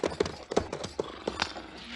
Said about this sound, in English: that's Jimmy McQueen's bay horse